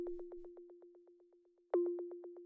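A Serum-style synth tom without drum bus processing repeats as a steady string of short, clean, pitched electronic hits over a constant humming tone, with one louder accent partway through, alone and fairly quiet.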